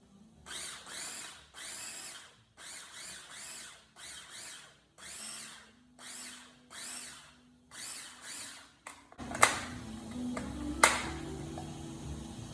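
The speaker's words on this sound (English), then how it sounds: "we're just going to blend that up" A blender pulses in short rough bursts chopping fresh herbs, about a dozen quick whirs with brief gaps, followed by clattering and scraping.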